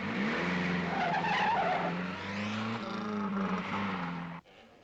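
A car driven extremely fast with tyres skidding and squealing, the engine roaring steadily and loudly close by for several seconds before cutting off abruptly near the end.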